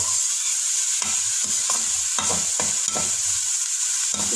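Bitter gourds fry in oil in a pan over medium heat while a spoon stirs them, steady sizzling with repeated scraping strokes against the pan, close and alone.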